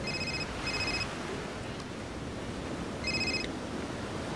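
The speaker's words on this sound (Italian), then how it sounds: "Il telefono." An electronic telephone ring sounds in two quick bursts, pauses, then rings again, a bright, trilling tone set over a steady background hiss.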